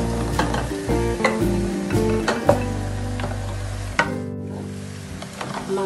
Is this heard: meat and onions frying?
yes